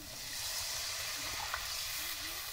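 Spiced cauliflower dal hits hot fried masala in a home kitchen pan and sizzles loudly and steadily, with a dense frying hiss and faint stirring scrapes.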